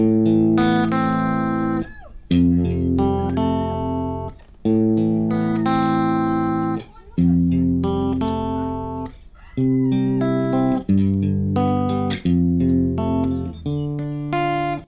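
A guitar riff from a song's verse: repeated chord-like phrases, plucked notes ringing in a looping pattern with short gaps between groups, played alone and clearly.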